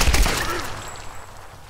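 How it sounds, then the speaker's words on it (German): Bursts of gunfire from the video game Tomb Raider crack loudly at the start, rapid overlapping shots from below that quickly fade into a lingering echo with no voices. "Woher kommen denn jetzt diese Schüsse?"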